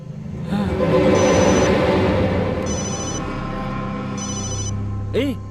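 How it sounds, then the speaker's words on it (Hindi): A telephone rings in a repeated electronic bell pattern, several bursts in a row over a low background hum, with a person speaking over the start and a brief sweeping tone near the end. "उसी का फोन है।"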